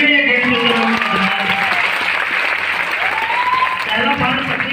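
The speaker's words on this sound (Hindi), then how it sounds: "ताली मर्दों वाले बजाइए" Seminar audience clapping loudly and steadily throughout, a dense close wash of many hands filling the room, with a voice faintly audible over it.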